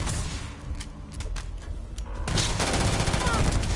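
EM weapons fire in the Starfield video game: rapid bursts of sci-fi gunfire that build into dense, loud, continuous volleys.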